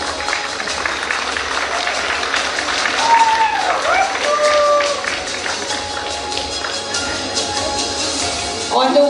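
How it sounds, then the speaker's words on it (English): Audience applause at a sports award ceremony as a district team takes the stage for a runners-up trophy: dense steady clapping from a crowd, with some cheering and voices mixed in throughout. "Let's give a big round of applause and invite on stage the team from East Garo Hills District winning the first runners-up trophy"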